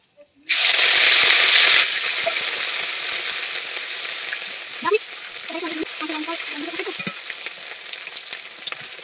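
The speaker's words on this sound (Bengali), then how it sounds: "এবারে দিচ্ছি পেঁয়াজ, কাঁচা লঙ্কা, আদা রসুনের বাটাটা" Onion, green chili and ginger-garlic paste hit hot oil already holding dried chilies and nigella seeds in a pan, a loud burst of sizzling that settles into steady frying with stirring scrapes.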